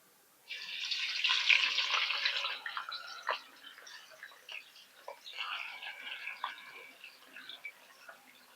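Thin homemade chips sizzle in hot oil, a close bright hissing crackle that starts suddenly and settles into uneven popping and spitting.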